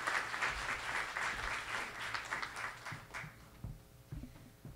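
An audience at a Toronto town hall applauds the media sponsor Xtra with steady, moderately loud clapping that thins and trails off toward the end, with faint voices and scattered handling noise beneath.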